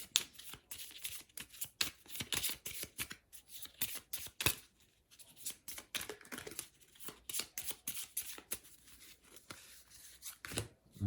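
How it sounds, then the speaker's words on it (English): A deck of playing cards is shuffled close by in quick repeated riffles and snaps, a dense run of crisp bursts with short pauses and no voices. "shuffle these up"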